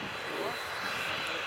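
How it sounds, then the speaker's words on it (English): A Yakovlev Yak-130 advanced jet trainer flies at the Royal International Air Tattoo, its engine a faint, steady distant whine and roar under a voice speaking over it. "he will put this aircraft through its paces forward here at the Royal International Air Station"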